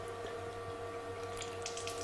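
Water runs steadily out of open radiator hoses on a car or truck, a constant close hiss and trickle that keeps going the whole time, with faint spattering toward the end.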